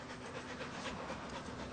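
A dog pants steadily and rapidly in a French film, a continuous breathy rhythm close up with a faint hum underneath and no talking.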